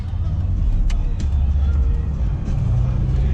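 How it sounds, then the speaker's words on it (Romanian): Cars drive through the town of Sinaia, heard from a car heading downhill. A continuous low traffic rumble stays steady, with a few faint clicks on top. "Și de mașini aici, băi!"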